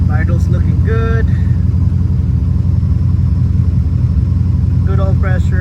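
A Datsun 240Z engine idles with a steady, loud low rumble, while someone talks briefly over it at the start and end.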